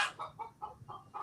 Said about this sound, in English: the chickens want to vote too